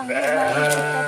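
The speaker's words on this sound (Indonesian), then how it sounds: "Wow, ada kambing guys." A goat bleats in one sustained, wavering call heard close and loud, with no talk over it, somewhere along a rural road on the way home.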